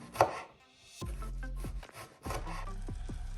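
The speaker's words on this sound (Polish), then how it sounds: "A następnie cebula cienkie plasterki." A knife slicing an onion into thin slices on a board, giving a few distinct cuts with soft scraping strokes between them, close and quiet, no talking.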